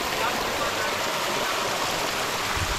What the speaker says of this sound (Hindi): क्या पहाड़ों से पानी निकलता हुआ आ रहा